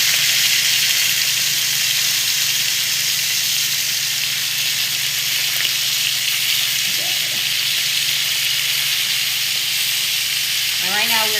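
Thick NY strip steaks sear in a hot pan with a loud, continuous close-up sizzle and hiss that barely varies, with a few faint clicks underneath.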